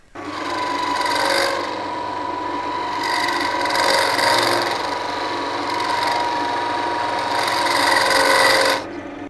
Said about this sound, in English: I'm just going to use a box scraper here so that it creates the recess in there